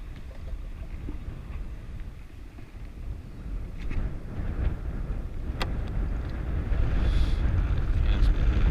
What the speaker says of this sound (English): Yeah, it's bloody windy here.